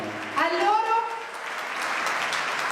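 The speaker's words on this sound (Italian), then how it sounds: "Facciamo un forte applauso a loro." An audience at an outdoor concert claps in a steady wash of applause, with a voice speaking briefly at the start.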